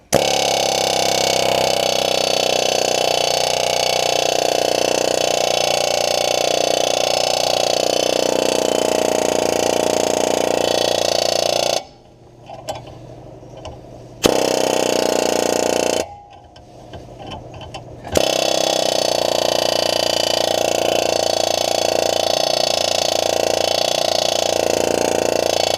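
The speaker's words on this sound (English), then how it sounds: "I took my air hammer apart and got it working again" A pneumatic air hammer chiseling at a ball joint on a 2012 Chevrolet Equinox in loud, continuous rapid bursts, stopping twice briefly before hammering resumes, the stops filled by a quiet hiss.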